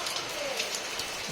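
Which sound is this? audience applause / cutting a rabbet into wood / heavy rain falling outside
heavy rain falling outside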